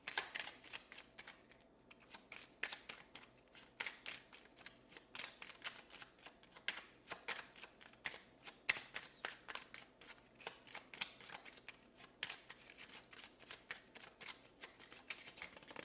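A deck of tarot cards is shuffled continuously and close by, producing dense rapid riffling clicks and flutters in quick bursts throughout, quiet overall with no speech.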